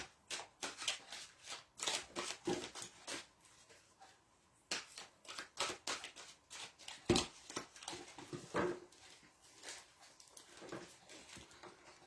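Oracle power cards are shuffled by hand, giving soft, quick riffling and patting sounds in short irregular bursts, with a pause partway through, faint and close by.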